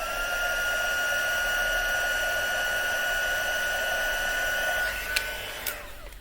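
A heat tool blows steadily up close while heating craft foam, a continuous whirring fan drone with a high whine that holds evenly, then clicks off and fades near the end.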